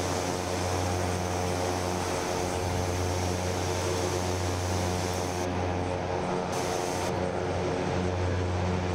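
Propeller engine of a Black Square Caravan in Microsoft Flight Simulator 2024, a steady loud droning hum with a constant low tone running unbroken throughout, heard from inside the aircraft.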